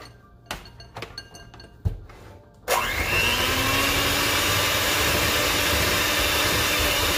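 Keto waffle batter of cinnamon and nutmeg is mixed in a glass bowl: a few sharp clinks and taps, then an electric mixer starts and whirs steadily and loudly to the end.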